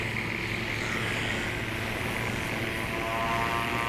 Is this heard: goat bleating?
no